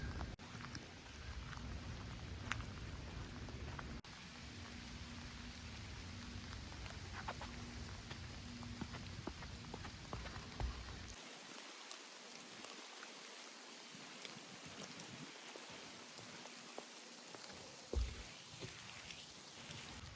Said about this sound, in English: as the rain continues to fall, the trail gets muddier and muddier